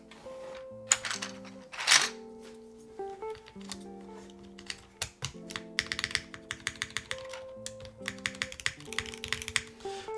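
Keys clack in irregular quick bursts on a Womier SK71 Pro mechanical keyboard with a plastic plate and GMK keycaps, close and crisp, with deeper thumps from the spacebar between runs of keystrokes.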